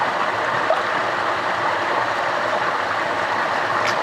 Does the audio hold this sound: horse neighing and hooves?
no